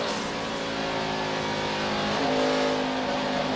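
A NASCAR stock car at Pocono in the 2009 Sprint Cup Pocono 500 accelerates along the straight, its engine a loud, steady roar that rises slightly in pitch toward the end.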